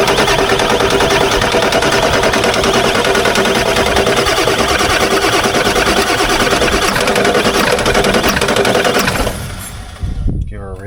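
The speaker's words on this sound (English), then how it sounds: "it's probably going to take a while to crank because the high pressure oil line's just replaced" A rollback truck's engine cranking steadily and loudly after its high-pressure oil line was replaced, a continuous churning drone that drops off near the end.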